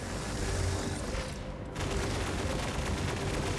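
A launcher firing in a multiplayer shooter game: loud, dense blasts and rapid booms crowd the whole moment, with a brief dip in the middle before the barrage resumes.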